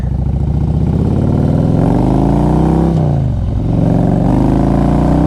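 A Harley-Davidson Road King Classic motorcycle with a Hypercharger air intake, engine loud and close as it revs up and down through gears, with a brief dip before pulling again.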